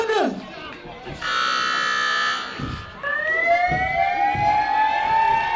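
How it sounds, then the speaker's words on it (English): A siren wails loudly through a wrestling event in Newcastle, with rising and falling tones over crowd noise and announcer chatter, then holding a long steady pitch. "I recognize that siren, Stan."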